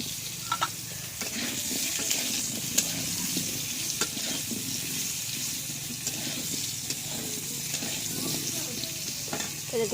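Potatoes frying in oil make a steady, close sizzle with occasional pops and stirring clatter throughout.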